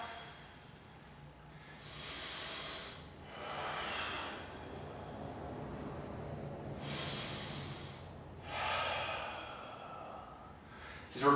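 Deep breaths exhaled during a glute and piriformis stretching exercise, heard as several soft, breathy exhales at intervals with no talking.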